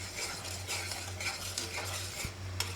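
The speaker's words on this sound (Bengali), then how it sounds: "আর সুন্দর করে মশলাটা কষায় নিচ্ছি, তেল ছাড়া তো" Masala spice paste being stirred and dry-fried without oil in a pan, with steady scraping stir strokes over a faint sizzle and a low constant hum from the stove, close and fairly quiet.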